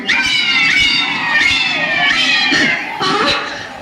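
A cat meows several times in a row, loud and close, with rising and falling cries while it laps at a dish of milk, over faint background noise.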